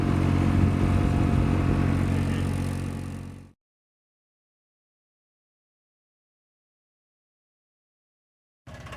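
A tractor engine runs loud and close with a steady, rumbling clatter for about three and a half seconds, then cuts off abruptly into silence.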